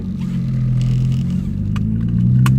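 A Mazda 6 with a newly installed AWR rear motor mount hums steadily while driving, a low continuous engine drone with road noise and faint interior clicks.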